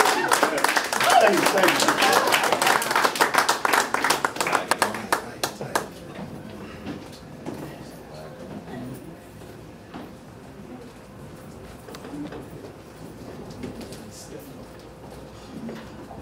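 An audience at a poetry event claps loudly for several seconds, the applause thinning into scattered claps and fading out, followed by a quieter room with murmuring and a few stray taps while someone speaks.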